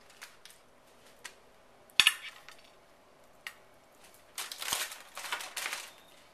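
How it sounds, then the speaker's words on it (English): Onion cheese bread is set onto a serving platter: a few faint scattered clinks, one sharper dish knock, then a louder cluster of rustling and clattering handling sounds. "what I'm going to do now is I'm going to put it on a serving platter"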